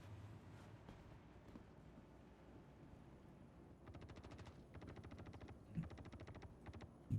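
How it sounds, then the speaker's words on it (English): Gunfire in the sci-fi video game Star Citizen during a bunker assault: faint bursts of rapid automatic shots in quick clusters, distant and quiet beneath low background ambience. "Definite shooting going on now."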